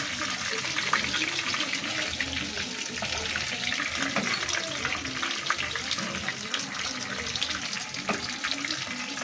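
Hilsa fish fry in a pan with a continuous, loud, even sizzle and crackle that fills the whole stretch, with occasional sharper pops.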